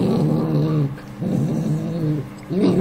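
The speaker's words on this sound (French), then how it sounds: "dès qu'on poigne dedans, elle grogne" A dog growls in three long, low rumbling bursts separated by brief pauses, close and loud, with no other sounds around it.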